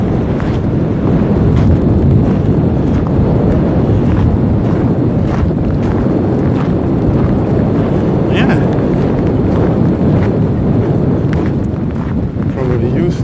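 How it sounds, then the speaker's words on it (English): Strong wind buffets the microphone in a loud constant roar beside cannons on the deck of the old frigate Jylland, and someone talks under the gusts. "The wind's very strong again up here"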